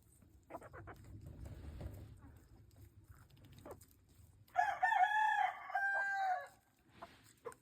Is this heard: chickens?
yes